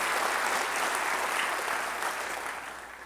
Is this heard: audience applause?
yes